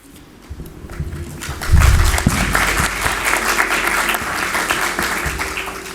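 Audience applause for a lawyer being welcomed on stage at a legal and technology conference in La Rioja, starting faint and swelling after about two seconds into steady, sustained clapping from a room full of people.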